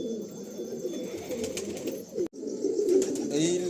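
Pigeons of an Andhra breed coo softly in a pigeon loft, a steady low murmur of overlapping throaty calls, close and continuous apart from a momentary drop partway through.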